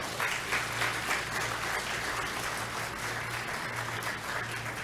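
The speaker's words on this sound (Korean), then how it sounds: "우리 백영숙 집사님 한번 박수 보내주시기 바랍니다" A church congregation applauds a deaconess thanked for playing piano at dawn services, a few seconds of steady, moderately distant clapping over a low hum.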